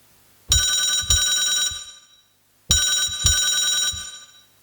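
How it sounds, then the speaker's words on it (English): Telephone ring preset on a MIDIPLUS MiniEngine USB MIDI sound generator: two rings, each a pair of loud, buzzy, bell-like trills, separated by a short silence. "124 is a telephone ring"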